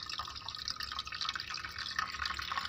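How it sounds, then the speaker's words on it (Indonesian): Water flows steadily through a hydroponic strawberry growing system, a soft continuous trickle with faint dripping, close by and fairly quiet, with no talking over it. "air mengalir"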